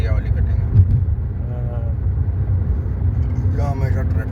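Steady low rumble of road traffic on a drive to Lucknow, with engines and tyre noise droning continuously while people talk over it.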